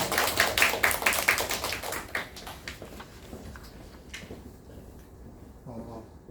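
A small audience at a science high school information session gives a brief round of scattered applause to welcome a speaker. It starts as a quick patter of claps, then thins out and fades to a few isolated claps.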